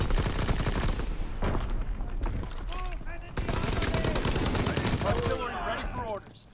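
A World War II artillery battery fires in a video game, giving rapid bursts of loud gunfire and booming shots that overlap through most of the clip, mixed with other battle noise.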